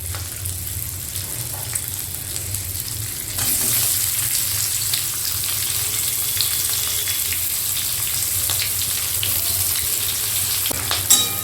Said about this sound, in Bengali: এর ভেতর প্রথমেই আমি দিয়ে দেব কুচিয়ে রাখা পেঁয়াজটা